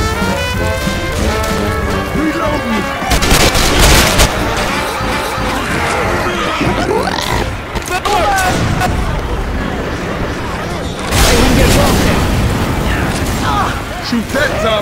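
Gunfire aimed at zombies in Left 4 Dead 2 in the French Quarter, with repeated shots and booms over a dense game soundtrack, loud and close, and bigger blasts near the middle and later on.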